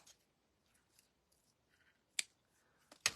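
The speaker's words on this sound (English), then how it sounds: "let me cut this down" Scissors snip through paper craft material for a shabby chic Valentine's decoration, giving two sharp, close cuts against near silence with a few faint rustles before them.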